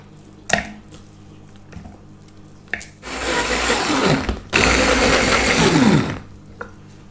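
A hand blender whirs through chunks of tikka sauce in two long bursts of loud, grinding buzz, preceded by a few clanks and taps of kitchen utensils.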